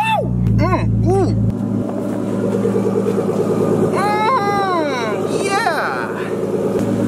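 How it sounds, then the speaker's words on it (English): A Nissan Skyline R33 RB engine with one muffler removed revs loudly and close, its raspy exhaust rising and falling through several sharp throttle blips while people cheer and talk over it. "We messed up by only removing one muffler from this, because this RB sounds so good."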